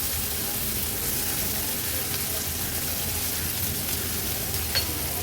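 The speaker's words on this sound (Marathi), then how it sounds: "टोमॅटो पण मसाल्यांमध्ये छान असा परतून घेते." Tomatoes saute with onions and spices in a pan, giving a steady soft sizzle and frying hiss with light stirring, close and fairly quiet.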